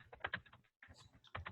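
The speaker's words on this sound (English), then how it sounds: "He's typing, I think." Typing on a computer keyboard during an online meeting, quiet clusters of rapid key clicks with a brief pause midway, heard faintly and alone.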